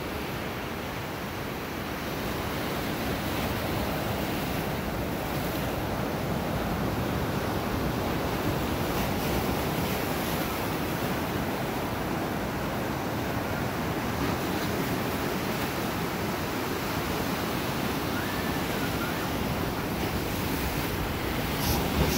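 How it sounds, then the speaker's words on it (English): Rough ocean surf pounds an El Salvador beach in a continuous loud roar of breaking waves, mixed with steady wind buffeting the microphone throughout. "So this is part of El Salvador, one of the beaches down here, and it's very rough."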